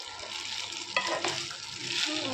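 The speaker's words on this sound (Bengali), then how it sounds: "চালটা ভালো করে ভেজে নেব।" Rice frying in a pan for pulao, stirred with a utensil: a soft continuous sizzle with a couple of scraping stirs, close and fairly quiet, with no talking.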